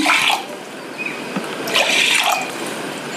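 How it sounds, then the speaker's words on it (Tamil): Water pours into a pressure cooker holding soaked, drained basmati rice, a close, fairly loud splashing trickle that swells and eases in a few surges, with no voices. "ஒரு கப் பாஸ்மதி அரிசிக்கு ஒன்றரை கப் தண்ணி சேர்க்கணும்"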